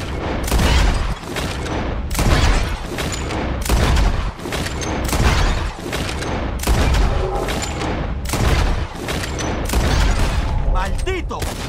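Rapid gunfire in Red Dead Redemption 2 as bottles are shot in a contest, bursts of sharp shots in clusters across the stretch, loud and close, with mechanical clicks and handling noises between volleys.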